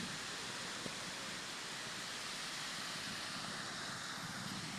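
A broad, steady roar of rushing water at a dam fills the scene evenly, loud and unbroken, with no voices.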